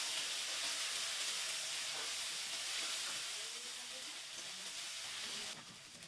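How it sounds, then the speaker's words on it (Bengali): Ginger garlic paste sizzles in a frying pan over fried onions, a loud steady bright hiss that barely changes, easing slightly near the end. "আদা রসুনের পেস্ট দিয়ে দিচ্ছি।"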